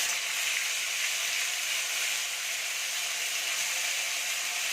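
Whole cumin seeds, curry leaves and a spoonful of ginger paste crackling in hot oil in a pan, a loud, steady close-up sizzle with no talking.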